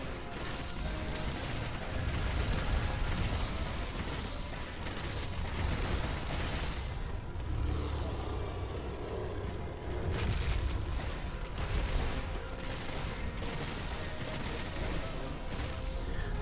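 Heavy bowgun fire with Fatalis-type ammunition in Monster Hunter World Iceborne, a continuous barrage of booming, crashing blasts and rapid impacts, dense and loud throughout with short lulls.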